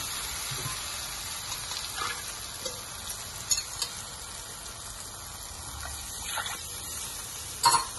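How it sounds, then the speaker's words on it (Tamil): A pan of water boils, bubbling and sizzling at a steady low level, with a few faint clinks of utensils. "தண்ணி நல்லா பாயில் ஆகுது."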